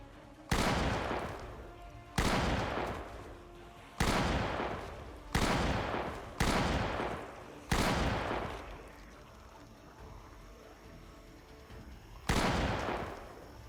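Semi-automatic gun in Project Zomboid firing seven loud, separate shots at uneven intervals of one to two seconds, each sharp report decaying into a short echoing tail, with a longer gap before the last shot.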